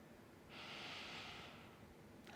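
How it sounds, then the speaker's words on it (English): A single slow, deep inhalation through the nose during a thoracic mobility stretching exercise, close and soft, rising over about a second against quiet background. "Breathing in."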